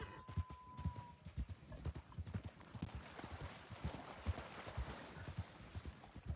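A horse's hooves clip-clop steadily while it is ridden cross-country off the road in a video game, a quiet, even rhythm of repeated hoof falls.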